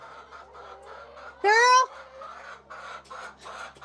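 Hens cluck on a roost in rapid, repeated bursts, with one louder squawking call standing out in the middle, and a person briefly speaking among them.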